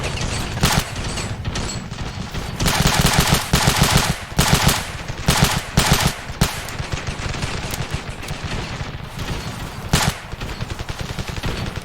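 Automatic machine-gun fire from a mounted MG in the battle game Ravenfield, loud, close bursts of rapid shots with brief pauses between them, continuing steadily throughout.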